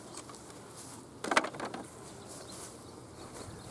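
Honey bees swarm around an opened hive, their faint, quiet buzzing rising into one brief, louder burst of activity about a third of the way through before settling back to a low hum.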